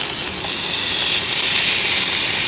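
Steak sizzling in a hot pan just after being flipped, a steady loud hiss of searing fat that holds evenly throughout with no talking over it.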